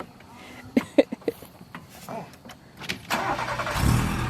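A car with no power strains and sputters, giving several uneven bursts of engine noise before swelling into a louder, rough drone, with voices nearby in the background.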